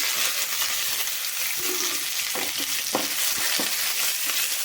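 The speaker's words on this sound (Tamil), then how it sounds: "வெங்காயம் போட்டுட்டு நல்லா வணக்கிக்கோங்க" Onions, curry leaves and green chillies sautéing in a pan, a steady close sizzle with a few soft scraping stirs of a spatula partway through, with no talk.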